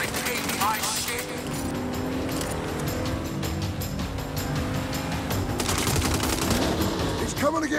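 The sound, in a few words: gunfire in Saints Row video game shootout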